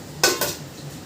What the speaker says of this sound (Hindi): तो हमने जो ड्राई फ्रूट्स भून के रखे उन्हें भी मिक्स कर देते हैं।